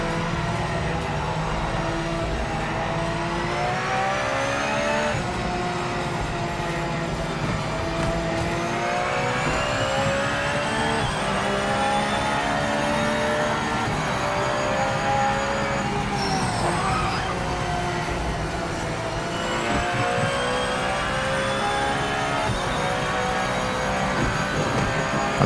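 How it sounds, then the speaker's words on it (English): Race car engines in the video game Project Motor Racing, a loud continuous whine of revving motors with rising and falling pitch and a strong whistling tone, steady throughout with no talk. "I'm not a fan of the engine sounds at all. So much whistling."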